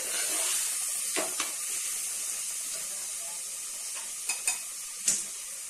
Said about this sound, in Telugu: ఇలా ఫ్రై చేసుకొని